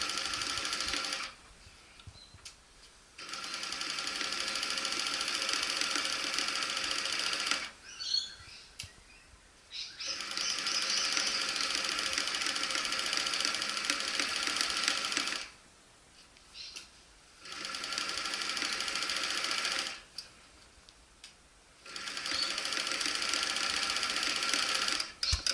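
Sewing machine stitching a fabric animal pouch for rescued reptiles, running in steady bursts of several seconds separated by short pauses, close and fairly loud with no talk over it.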